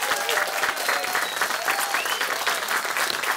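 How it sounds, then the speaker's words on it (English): A television talk show studio audience claps steadily, a dense burst of applause that holds at an even, fairly loud level throughout. "Big round of applause for our three guys."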